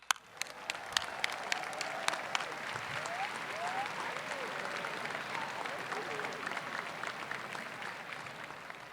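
A large audience at a University of Florida commencement applauds steadily, welcoming speaker Chris Malachowsky. A few sharp claps open the sustained clapping, which holds for about nine seconds.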